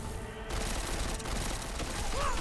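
Gunfire in the video game Deus Ex: Mankind Divided, a dense sustained volley of shots under a constant roar of combat noise, loud and continuous throughout.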